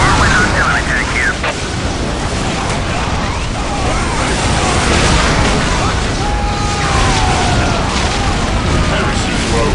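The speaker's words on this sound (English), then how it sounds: "Whirlwind artillery tank here." A Whirlwind artillery tank in the Warhammer 40K game Dawn of War fires amid a dense, loud battle, with repeated booms and bursts over a constant rumble and clatter, and voices under the din.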